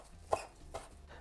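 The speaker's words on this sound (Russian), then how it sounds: "Зелень нарезаю среднего размера" Two quiet knife chops through fresh herbs on a cutting board, a sharp tap followed by a softer one, in a calm room.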